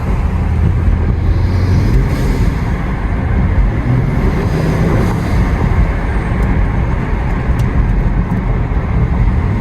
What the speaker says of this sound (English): I'm going to turn it on and rev it in park